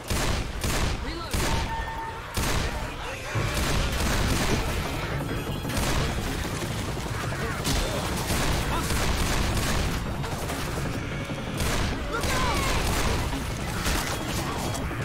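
Rapid, loud gunfire in Left 4 Dead, dense bursts and sustained automatic fire with booms and crashes, continuous over about fifteen seconds, with players talking over it.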